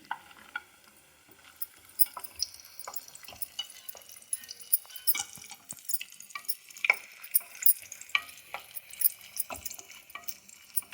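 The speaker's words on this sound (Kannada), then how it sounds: "ಸ್ವಲ್ಪ ಹುರಿದು ಆಗಿದೆ ದ್ರಾಕ್ಷಿ ಹಾಕೊತಿದ್ದೀನಿ" Raisins stir-fried in a pan with cashews that are already roasting, for rava unde: light, scattered scraping and crackling clicks come close and steady throughout, with no talk.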